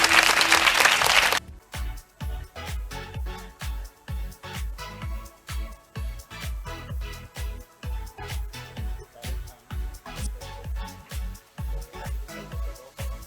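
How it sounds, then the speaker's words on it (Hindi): An audience claps in steady rhythmic unison at an award event for top-ranking students, each beat sharp and evenly spaced, following a brief burst of loud noise at the start. "जोरदार तालियां हो जाए हमारे एवरीवन।"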